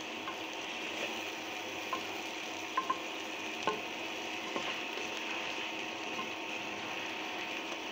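Pieces of pangas fish being sautéed in spice masala, a steady low sizzle with occasional light scrapes and taps of a spoon against the pan, close and fairly quiet, no talking.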